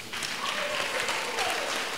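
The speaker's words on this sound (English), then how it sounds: "clap for Jesus" Congregation clapping during a church anointing service, a short burst of dense applause with faint voices rising underneath.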